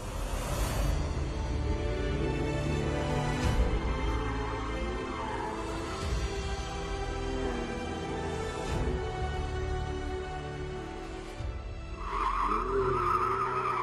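A car skids through a corner on a purpose-built race test track, tires squealing over a loud, revving engine that rises and falls in repeated surges, close and uninterrupted.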